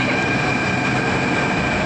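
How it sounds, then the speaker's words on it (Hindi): A Delhi metro train pulls out of a station, giving a loud, steady rumble of wheels and motors with a faint high whine throughout and no voices. "हम जिस मेट्रो में जाने वाले थे रिया दीदी और वो चली गई"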